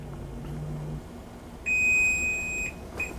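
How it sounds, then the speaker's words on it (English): A kitchen timer beeps while pasta and pierogi are being cooked, sounding one long, loud, steady electronic tone for about a second, then a shorter beep after a brief pause, over low kitchen background noise. "There goes my timer."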